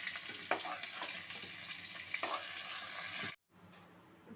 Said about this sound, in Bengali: পটলগুলো ভাজা হয়ে গেছে, আমি এবার পটলগুলো তুলে দিচ্ছি।